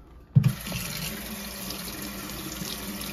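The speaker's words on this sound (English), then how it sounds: "so I'm just gonna run under the faucet." Kitchen faucet running over a tray of frozen cocktail shrimp: a sudden splash as the tap opens, then a steady hiss and patter of water for the rest, close and with no talking.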